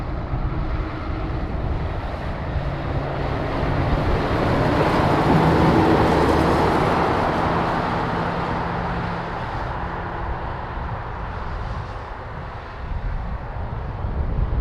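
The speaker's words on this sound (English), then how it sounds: "I think I saw a truck" A truck passing on the A500 road near Crewe, a broad engine and tyre roar that swells toward the middle and fades away again, steady and moderately loud, with no talking.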